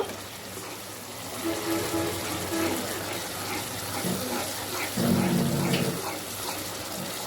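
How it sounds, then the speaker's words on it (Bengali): Running water splashes and pours steadily as a spice-stained bowl is rinsed, with a stronger gush of water near the end. "বাটিটা ধুয়ে আবার একটু পানি দিয়ে দিল"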